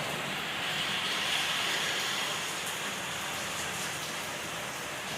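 Heavy rain pours steadily and loudly without letup, a dense continuous hiss that fills the whole stretch with no voices.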